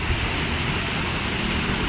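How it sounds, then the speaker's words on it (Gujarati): Heavy rain driven by strong wind at a bus station in Ahmedabad, a dense, steady broadband roar with no gaps, close and loud for the whole stretch. "જબરજસ્ત વરસાદ પવન છે"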